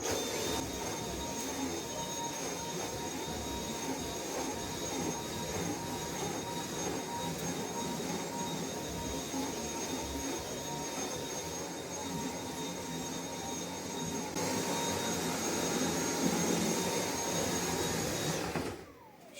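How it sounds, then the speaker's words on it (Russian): A cordless vacuum cleaner runs at low speed on a fully charged battery, a steady whirring motor hum with a constant high whine that stays even, then cuts off abruptly at the end. "сколько я буду пылесосить вот на полностью заряженном, только что снятом со станции аккумуляторе"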